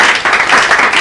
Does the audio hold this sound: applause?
yes